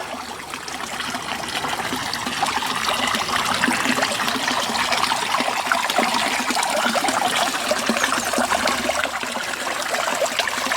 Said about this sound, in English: Our cascade here.